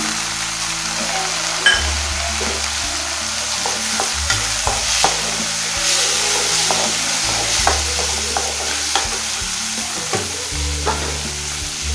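Chopped onion and tomato sautéing in a hot pan for an okra side dish: a constant near sizzle broken by repeated spatula stirs and scrapes, with a few louder knocks.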